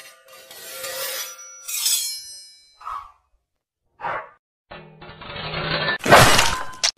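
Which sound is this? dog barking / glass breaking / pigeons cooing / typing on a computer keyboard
glass breaking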